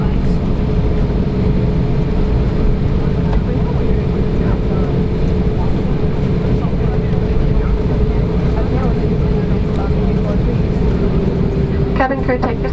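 Cabin view of an SAS Airbus A320neo taking off, with a steady loud engine roar and rushing air noise filling the cabin throughout, a constant whine sitting above the rumble.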